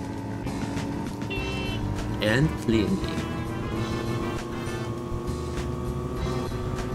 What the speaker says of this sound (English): while thinking why this car sounds like a freaking blender